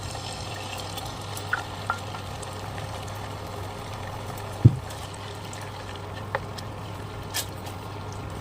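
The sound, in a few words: aloe vera added to coconut oil in pan, stirred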